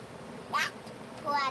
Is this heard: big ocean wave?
no